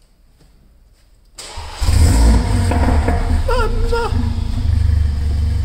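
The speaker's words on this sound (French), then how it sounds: "une petite RC thermique que je voulais depuis tout petit" A nitro RC car engine cranks and then catches, jumping into a loud, buzzing idle with brief high-pitched revs, close by after a quiet start, with a short spoken exclamation.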